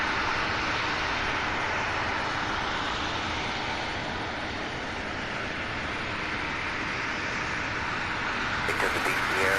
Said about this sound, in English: This is a brand new E175LR.